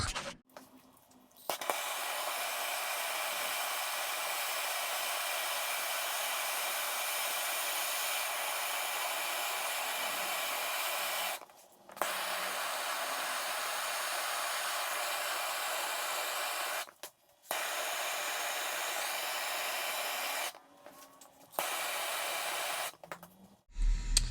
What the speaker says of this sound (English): So I got some solder here, a torch.